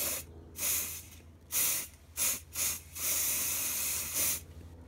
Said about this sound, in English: I'm just going to spray this into the mould